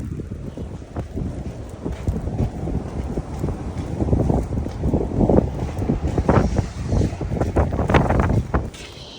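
Strong wind buffets the microphone in loud, gusting rushes throughout, with a roaring, turbulent texture that builds toward the end.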